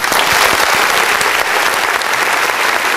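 A sustained burst of crowd applause, many hands clapping densely and loudly at an even level throughout, with no voices over it.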